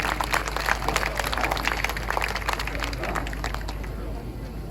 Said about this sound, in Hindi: एक बार तालियां बजाकर मुझे एहसास दिलाइए